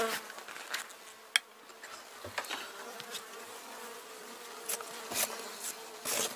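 Bees buzzing at a beehive in winter, with scattered individual buzzes passing close by over a quiet background.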